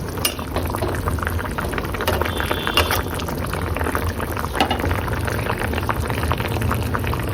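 Fish curry with cauliflower bubbling steadily in a pan after fried fish pieces are added, a loud continuous simmering hiss and crackle with occasional faint clinks, heard close and alone.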